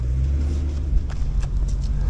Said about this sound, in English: Just gonna have to give it the old full throttle assault.